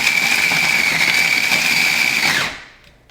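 Chunks of coconut are chopped in a blender on its chop setting: a loud, steady high motor whine for about two and a half seconds, then it winds down and falls silent.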